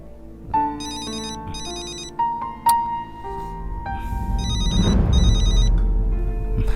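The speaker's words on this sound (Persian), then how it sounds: "باز دکتر سنم زنگ زده" A phone ringtone plays loudly and alone, a repeating electronic melody in bursts with short pauses, from a Turkish drama series dubbed in Dari.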